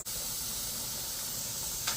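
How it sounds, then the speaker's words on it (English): Pressure canner loaded with ground beef venting steam in a steady, loud hiss that runs unbroken throughout, with a brief sharper burst near the end. "it's really steaming and going good now."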